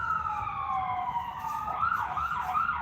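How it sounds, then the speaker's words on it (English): An ambulance siren wails steadily, then shifts into a faster rising-and-falling yelp as the vehicle passes nearby on a city street, loud over road noise. "Damn ambulance and shit."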